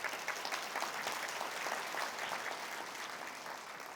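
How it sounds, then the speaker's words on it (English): A symposium audience claps together for a Houston councilmember. The applause is moderate and fairly distant, holds even for several seconds and then starts to thin. "Can we give him a round of applause?"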